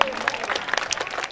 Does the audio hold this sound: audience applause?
yes